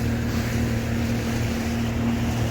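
Wind gusts buffet a fishing boat out on the Solent off Hill Head, with a steady low rumble of wind and water noise that holds throughout, with no talking.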